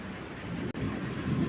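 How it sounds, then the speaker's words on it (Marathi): Heavy rain falls in a dense steady roar with a low rumble of thunder beneath it, loud and continuous apart from a brief dropout partway through. "सगळीकडे पाऊस पाऊस."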